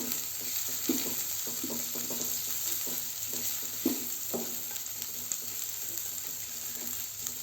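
Moong dal batter mixed with coarsely ground green chili and ginger fries gently in a pan over a very low flame, a continuous soft sizzle broken by several scraping stirs, with no talking.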